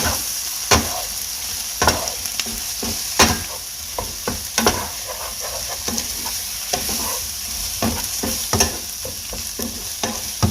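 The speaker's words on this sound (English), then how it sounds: "I'm just going to give this a stir" Teriyaki shrimp and vegetables are stirred in a sizzling pan, a spatula knocking and scraping in a repeated rhythm about once a second over a continuous fry, close up with nobody speaking.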